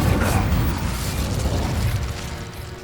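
A fiery Incendio spell cast in Hogwarts Legacy, heard as a dense, loud roaring burst of flame that fills the moment and tapers off slightly over about three seconds, with no voices.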